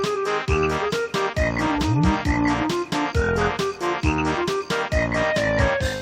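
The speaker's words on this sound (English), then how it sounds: "Bubblegloop Swamp's theme uses the sound of, well, gloop sounds from the murky water, frog ribbits harmonizing on cue" Rhythmic frog ribbits and croaks sit in the swampy Bubblegloop Swamp theme from Banjo-Kazooie, a repeating game melody with sax and xylophone tones and bending gloop-like notes.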